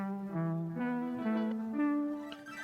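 A smooth Arturia MiniFreak preset synthesizer lead plays a slow sequence of sustained notes stepping between pitches, with effects on, a bright, harmonically rich tone and no other sounds.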